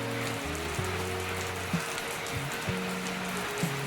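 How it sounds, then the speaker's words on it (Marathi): Heavy rain pours onto a veranda in a steady, close hiss, with low tonal hums and a few faint knocks running beneath it. "किती पाऊस पडतोय"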